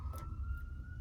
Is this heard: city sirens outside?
yes